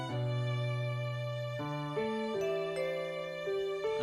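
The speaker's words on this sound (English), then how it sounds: "The doorbell?" A doorbell in the visual novel Fate/Stay Night rings as a sustained electronic chime, stepping through several clear tones over a few seconds, loud and steady with nothing else heard.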